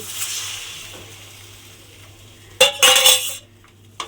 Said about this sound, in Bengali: এই বাটি ধোয়া জলটা কিন্তু আমি এর মধ্যে দিয়ে দেব